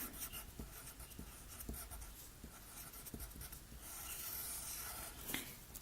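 Pen or marker drawing a mast cell diagram during an anatomy lesson, heard as steady scratchy strokes with repeated short taps, close and fairly quiet, no talking.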